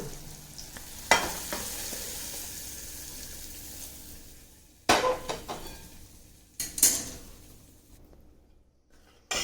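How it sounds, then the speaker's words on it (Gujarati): Hot tempering hisses and sizzles as it is poured into simmering Gujarati khatti mithi dal, a continuous frying crackle broken by several sharp clinks of a spoon against the pot. "આપણો વઘાર તૈયાર છે. તેને આપણે દાળમાં રેડીશું."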